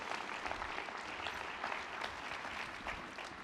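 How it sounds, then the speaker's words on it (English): Steady, moderately distant applause from a conference audience at a food safety summit session, a continuous even patter of many hands throughout. "Please, ladies and gentlemen, give Courtney a nice round of applause"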